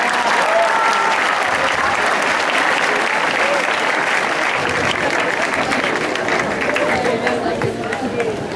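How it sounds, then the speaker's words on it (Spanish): A conference audience breaks into loud, sustained applause, a thick wash of clapping hands that holds steady from start to finish with murmured voices and faint talk mixed underneath. "un aplauso muy grande"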